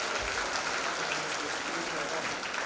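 Applause for graduates at a university graduation ceremony, a soft, even patter of many hands from a distant crowd, brief and steady.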